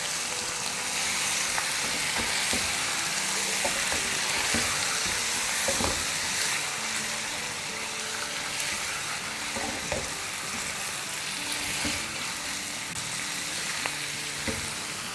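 About two kilos of mutton frying with ginger and garlic in a pot sizzles steadily and loudly up close, with repeated scraping and clacking stirs throughout.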